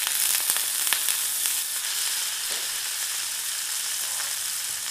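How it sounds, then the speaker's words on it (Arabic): French fries frying in oil with a knob of butter, a dense, steady, close sizzle with crackling that holds throughout. "ونجيو نطيبو الفري تاعنا باش نيتيليزيو فريتوز"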